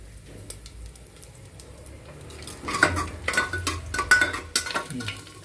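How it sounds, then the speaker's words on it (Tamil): Finely chopped coconut sautéed in a pan, starting as quiet sizzling and building into repeated scraping and clinking of a metal spoon against the pan. "தேங்காய் அதை கொஞ்சம் நல்லா வதக்கிக்கலாம் பொன்னிறமாக"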